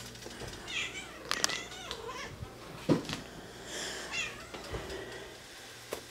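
Cats meow repeatedly in a kitchen where sausage and hamburger are browning in a pan, several mid-loud calls spread across the moment with faint background noise.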